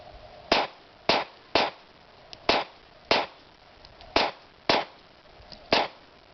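A stainless Kimber Stainless II 9mm pistol fired in a string of about nine sharp, evenly spaced cracks, one roughly every half second to second, fairly distant and crisp with quiet gaps between.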